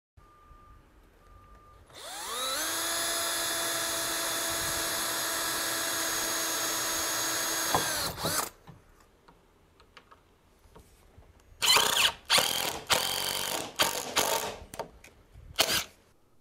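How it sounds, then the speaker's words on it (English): Power drill pre-drilling holes in composite rail brackets, a steady high whine held for about six seconds, followed by a series of short clicks and bursts, close and fairly quiet. "you're going to mark the holes on your brackets so that you can pre-drill the holes"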